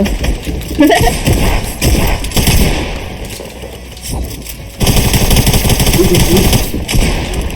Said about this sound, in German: Ich schieße euch jetzt alle ab